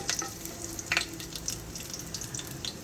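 Garlic fries in ghee in a pan for corn soup, giving a moderate crackling sizzle with a few sharp pops and clinks, heard alone.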